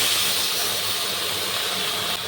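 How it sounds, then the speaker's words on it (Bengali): Water hits hot oil with chopped hog plums in a pan, raising a loud, steady steam-like hiss that fills the whole stretch and eases off slightly at the end, with no voices. "এবার জল দিয়ে দিচ্ছি"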